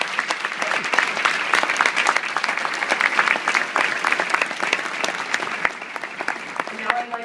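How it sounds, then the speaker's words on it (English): Audience applause after an award at a breast-care center ceremony: dense, steady clapping from a sizeable crowd fills the whole stretch, with a voice starting to speak faintly just before the end. "Let's give them another great round of applause."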